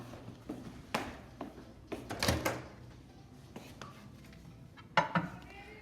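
A plastic microwave rice cooker lid clicks as it is locked shut, then the cooker is set inside a microwave, giving several sharp knocks and clatters against a quiet background.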